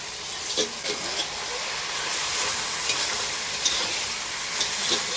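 Black cumin seeds and green chillies sizzling in hot oil in a home kitchen, a continuous bright hiss with small pops and occasional stirring scrapes, close and steady.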